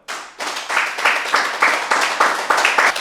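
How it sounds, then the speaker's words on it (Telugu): A crowd claps steadily in a loud, sustained burst of applause, with rhythmic surges of hand claps repeating throughout. "దేశాలన్నిటి గట్టి క్లాప్ చేద్దాం"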